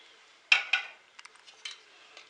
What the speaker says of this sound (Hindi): सारी चीज़ों को मैं मिक्स कर देती हूँ।